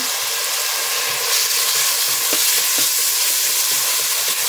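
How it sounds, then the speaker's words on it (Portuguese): A vegetarian stew base sautés in a pan with smoked paprika and dried seasonings, giving a steady close sizzle and hiss with a few faint stirring clicks and no voices. "Vou deixar dar uma refogada, aí eu venho com os, os temperinhos secos páprica defumada, tempero baiano"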